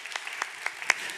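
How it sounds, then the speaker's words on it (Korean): A church youth congregation claps for the team going to Thailand, a handful of separate, fairly soft claps spaced irregularly across a brief moment. "우리 다시 한번 태국팀 박수"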